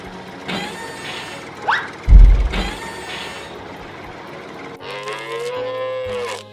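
Cows moo several times, long low calls with a loud one in the middle, mixed with some mechanical creaking.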